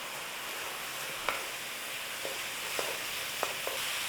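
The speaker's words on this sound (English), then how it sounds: "we're going to give that a whisk through" Dried oregano and smoked paprika being whisked into a sauce, with a steady soft sizzling, stirring texture and a few faint light scrapes or taps of the whisk scattered throughout; no talking.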